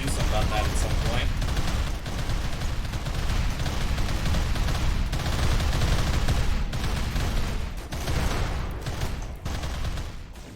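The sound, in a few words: las guns firing in the video game RimWorld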